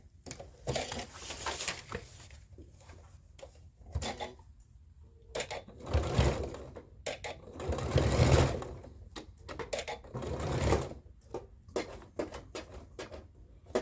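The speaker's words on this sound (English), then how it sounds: "I just pinned the facing and I'm sewing it right now." A home sewing machine stitches a blouse facing in repeated bursts of fast, rhythmic needle chatter, with pauses between runs and small handling noises, close and clear.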